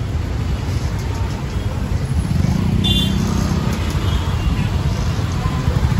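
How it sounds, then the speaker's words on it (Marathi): Heavy road traffic heard as a steady, dense low rumble of passing vehicles close by, with a faint brief tone near the middle and no clear talking. "इथं फुल ट्रॅफिक आहे."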